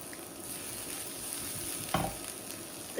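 Garlic dropped into a hot frying pan: a steady soft sizzle with a sudden louder crackling hiss partway through as it lands and is stirred, close and fairly quiet, no talking.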